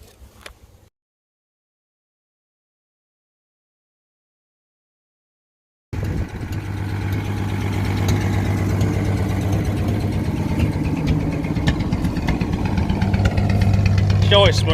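A 1952 Studebaker 2R5 truck engine, revived after a blockage, starts up after near silence and then idles with a steady low rumble that grows slightly louder, close by, with voices talking over it.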